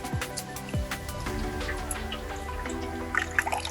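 Sesame seeds being rinsed in water in a clay pot, with close wet sloshing and dripping sounds and a few sharp knocks, steady throughout.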